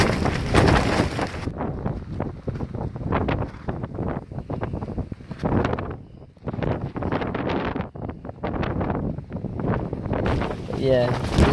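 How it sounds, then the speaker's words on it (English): Strong, nonstop wind buffets a duplex tent, gusting in loud rushing waves with brief lulls and flapping fabric throughout, heard from inside. "And I'm dealing with this nonstop wind."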